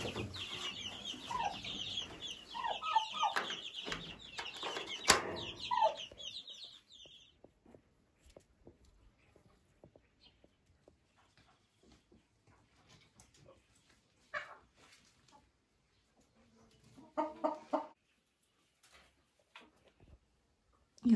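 Hens in a poultry yard give soft scattered clucks, quiet and intermittent, after a louder mixed opening with a dog whimper and other noise.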